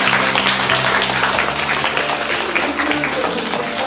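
Audience applause at a Ukrainian charity gathering, a dense steady wash of clapping from a crowd that holds for the whole stretch, with a low musical hum and some murmur beneath it.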